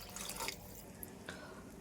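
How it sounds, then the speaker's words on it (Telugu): Water is added to a pan of mashed-potato curry (aloo shorva), giving a faint, quiet splash and a few soft drips close by. "కొంచెం వాటర్ వేసుకుందాం."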